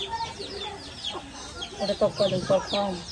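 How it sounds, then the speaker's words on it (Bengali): A hen gives a run of short, throaty clucks close by, bunched into a quick rhythmic burst near the end, with a person speaking faintly in the background. "মুরগি"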